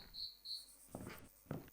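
Crickets kept as live feeder insects for a pet reptile, giving two short high-pitched trills followed by light rustling and scratching sounds, faint and close.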